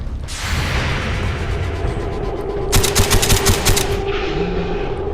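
M60 machine gun firing a rapid burst of about half a dozen loud shots in XCOM 2, cracking over a droning background hum and game ambience.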